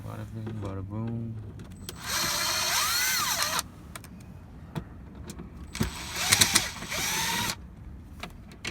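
A power screwdriver whirs in two long runs, its whine rising and falling, while backing Phillips head screws out of a BMW E90 3 Series glove box; someone speaks briefly before the first run.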